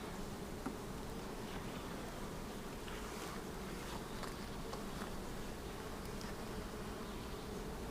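Honeybees buzz steadily and densely throughout a hive inspection while boxes are being added, a continuous close droning swarm hum with no break.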